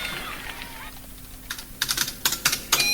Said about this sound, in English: Egon began tapping keys on his computer